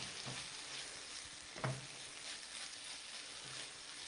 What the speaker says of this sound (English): we're going to deglaze with some lime juice